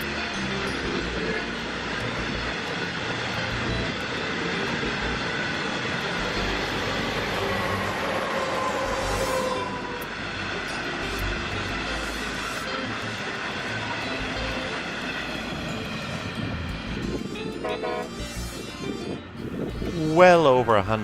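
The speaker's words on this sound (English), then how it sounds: "Along with loads of road trains and real trains. Long trains. Very long trains." A very long freight train rolls past in Western Australia's Pilbara region, giving a steady, broad rumble and rattle of wagons that carries on for the whole stretch, swelling slightly toward the end.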